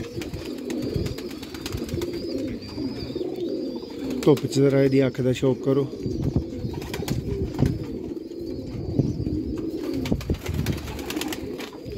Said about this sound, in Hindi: नायाब सियालकोटी दोस्तों चूहे कबूतर